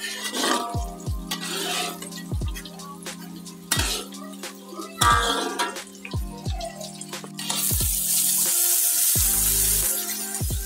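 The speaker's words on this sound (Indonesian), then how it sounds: "Dan lalu kita goreng tahunya ya sampai matang." Utensils clink against a pan a few times, then oil starts to hiss and sizzle steadily as tofu fries.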